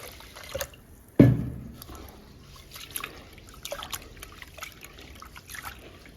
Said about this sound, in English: I'm gonna wash some rice.